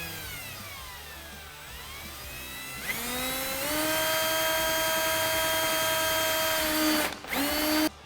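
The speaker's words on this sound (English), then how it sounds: "Once we have it held in place, drill us a hole." A power drill bores a hole through a plastic low-profile fender flare on a Polaris RZR XP Turbo, the motor winding up to a steady high whine, briefly stopping, then spinning again.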